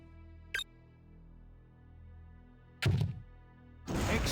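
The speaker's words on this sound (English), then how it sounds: "I'm supposed to hit him with a grenade, aren't I?" In the video game Soldier of Fortune II: Double Helix, a grenade launcher fires with a short thunk, then a louder thudding blast, followed by a sustained noisy burst.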